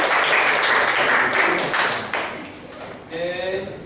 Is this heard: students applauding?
yes